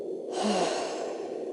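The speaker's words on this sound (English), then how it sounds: "breathe in gently, hold it for a couple of seconds and then out nice and gently" One slow, gentle breath out during a relaxation breathing exercise, a soft, airy exhale heard close and alone that holds steady to the end.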